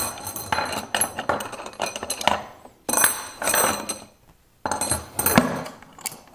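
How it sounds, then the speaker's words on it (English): Nails pulled from a wooden box, a run of sharp metallic clinks and wood-on-metal scrapes in bursts separated by brief pauses, close and fairly loud. "First, pull all these nails out."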